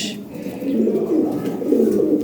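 Lahore pigeons coo close by in a low, continuous throaty burble that swells and repeats for the whole stretch, with faint background noise and no clear talk.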